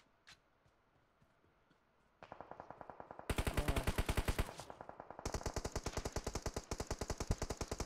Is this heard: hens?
no